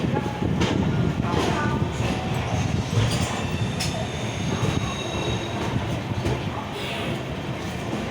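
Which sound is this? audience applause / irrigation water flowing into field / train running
train running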